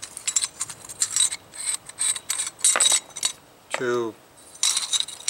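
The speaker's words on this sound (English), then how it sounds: "The two knurled ends unscrew" Metal parts of a TexSport Shape Shift folding saw rattle and clink in quick scraping bursts as its knurled knobs are unscrewed close up, with a brief voice breaking in once.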